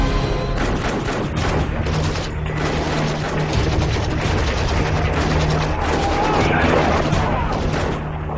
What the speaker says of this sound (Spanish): De pronto, suenan disparos procedentes del interior.